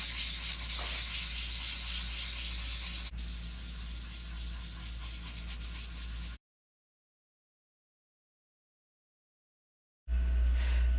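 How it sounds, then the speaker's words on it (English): A turned wooden goblet's bottom is sanded in a steady, close abrasive rub with a constant low hum, likely from the lathe, lasting about six seconds. Silence follows, then the rubbing briefly starts again. "Just got to clean up the bottom, sand and finish the bottom"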